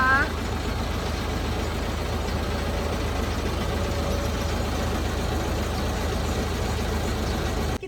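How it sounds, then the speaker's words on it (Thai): Isuzu FXZ320 concrete mixer truck idling while loading cement, a steady low diesel rumble held constant throughout with a faint whine, voices present underneath. "อันนี้เรากำลังทำการโหลดปูนนะคะ"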